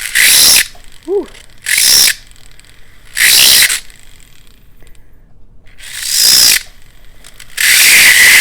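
A rotary tool with a 5–6 mm ball burr cuts a seat for a stone in a prong basket setting: about five short, loud, high whining bursts separated by quiet gaps.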